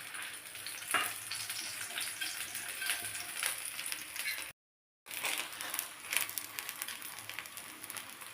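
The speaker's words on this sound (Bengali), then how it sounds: "অল্প সাদা তেল দিয়ে ভালো করে আমি ভেজে নেব।" Folded sweet crepe rolls fry in a little white oil, making a steady crackling sizzle with sharper pops, briefly cut to silence midway before the sizzle resumes.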